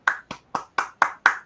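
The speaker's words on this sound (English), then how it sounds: "Clapping my hands." Hands clapping six times in a steady, even rhythm, each clap crisp and close, with brief silence between them and no talking.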